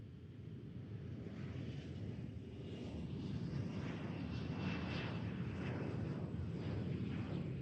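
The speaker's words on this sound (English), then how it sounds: "767-400 going to be going back over to Paris." A Boeing 767-400 airliner passes overhead at an airport, heard as a broad, steady jet roar that swells gradually and stays loud and sustained, with no talk.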